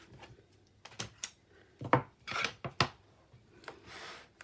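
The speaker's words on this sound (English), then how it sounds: "Burnish them down really well." Paper folds being burnished down with a bone folder, close dry rubbing and scraping strokes in short irregular bursts with quiet gaps between.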